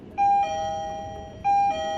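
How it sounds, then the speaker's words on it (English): An Onlense K38 smart lock doorbell chimes twice in a two-tone electronic ding-dong pattern, loud and close, with a sustained tone between the two chimes. "Once the doorbell is pressed,"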